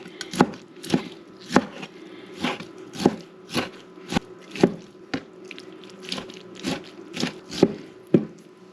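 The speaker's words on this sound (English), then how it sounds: "you're going to chop up the shrimp" A knife chops raw shrimp into chunky pieces on a cutting board for a bean thread soup, with about a dozen crisp, fairly regular thuds landing roughly every half second, close and clear with no talk.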